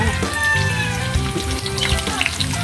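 Vegetables and sardines sauté in a hot pan, giving a steady close sizzle and crackle with scattered pops and no voices.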